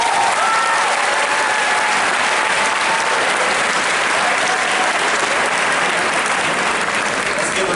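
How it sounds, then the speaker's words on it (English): A large audience claps continuously and loudly at Peekskill Middle School's 8th grade moving-up ceremony. The applause is thick and unbroken from start to finish. "Let's give another round of applause"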